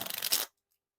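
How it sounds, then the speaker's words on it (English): Brief riffle shuffle of a Teenage Mutant Ninja Turtles Pop playing card deck, a dense close burst of card flutter lasting under half a second before abrupt silence. "So, riffle shuffles and bridge shuffles are possible."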